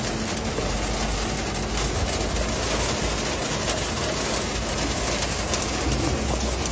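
Rain falls steadily and densely on a small three-wheeled car, a constant close hiss and patter with a low rumble underneath and no talking.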